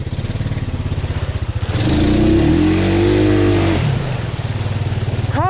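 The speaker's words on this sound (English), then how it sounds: "Car's digging." A car engine revs hard and bogs while stuck digging in a deep flooded mud hole on a trail at night, a loud sustained roar rising and falling between rougher idling pulses.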